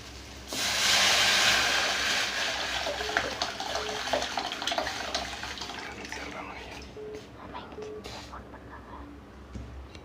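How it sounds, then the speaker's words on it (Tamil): Rasam pours steadily into a pan with a rushing, splashing sound that gradually thins out, over a low background hum. "லைட்டாக வதங்கினோடனே நம்ம எடுத்து வச்சுருக்கிற ரசத்தை அதில் ஊற்றிக்கலாம்."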